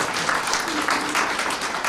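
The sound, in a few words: applause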